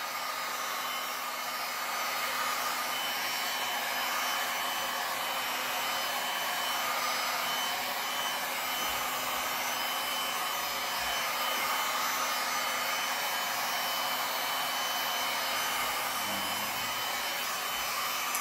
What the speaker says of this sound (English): So I'm just heating the surface of the entire piece before I start moving.